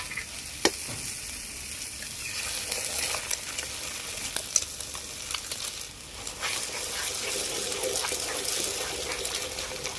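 Eggs are cracked into hot white oil with chopped onion and green chilli, sizzling steadily as the frying hiss stays prominent and close, with a few sharp clicks of the shells and utensils.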